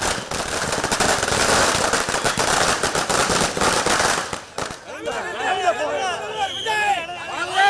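Rapid strings of firecrackers crackle and pop densely for several seconds, then give way to a crowd cheering and voices in the background.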